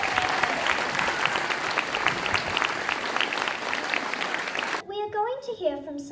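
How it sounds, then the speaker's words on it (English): Audience applause at a book launch, dense steady clapping filling the room for several seconds before cutting off abruptly into a voice speaking. "Can we have a round of applause for Vivian Small?"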